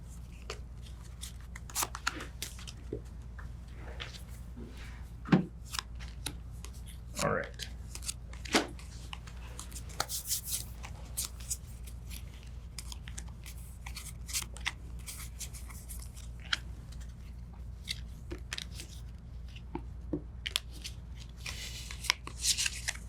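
Soft riffling of cards being shuffled in short bursts during a Tainted Grail board game session, with scattered clicks and taps, quiet and close, while people talk intermittently.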